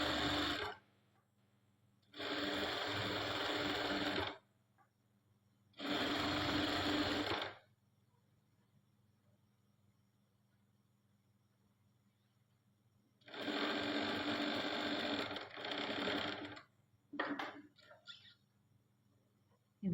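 A sewing machine stitches fabric in three or four close, loud rattling bursts a few seconds long, separated by quiet pauses with a low background hum, ending in a couple of short jabs.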